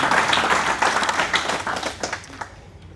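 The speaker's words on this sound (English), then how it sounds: "That certainly deserves applause." Applause at a funeral service: a room of mourners claps together, strong at first and then thinning out and fading over a few seconds.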